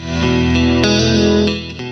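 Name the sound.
clean electric guitar without reverb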